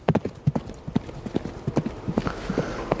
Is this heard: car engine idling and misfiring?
no